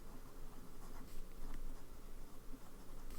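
A Lamy Studio Racing Green fountain pen with a fine nib, inked with Robert Oster Citrus, writes on paper, giving a faint, continuous soft scratching under low room noise.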